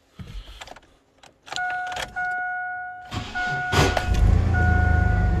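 A dually truck's engine cranking with a clunk, failing to catch, amid a few sharp clicks and a high electronic chime, then a steady low engine rumble toward the end.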